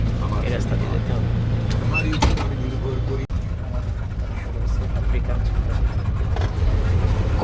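A car drives through Gazipur safari park, its engine and road noise a steady close rumble throughout, with a brief click partway and people talking over it.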